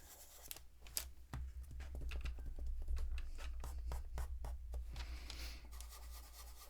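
Pastel pencil shades across paper in quiet, steady scratchy strokes, building a soft blurred background for an otter drawing, with no talking.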